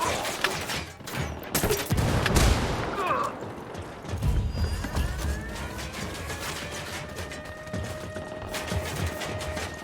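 Bursts of gunfire in Ghost Recon Wildlands crack out in rapid volleys, loud and close, with a heavier blast and lingering rumble midway and quieter shots trailing off after.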